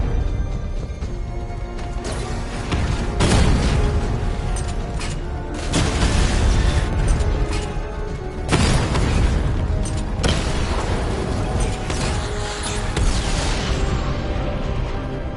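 Continuous loud booms and crashing blasts in the video game Batman Arkham Knight, several heavy surges of rumbling explosions and debris noise that swell and fade across the stretch, with no talk.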